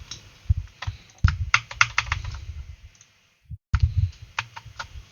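Computer keyboard typing shortcuts: irregular bursts of close, crisp key clicks and taps, a brief silent pause, then more clicking.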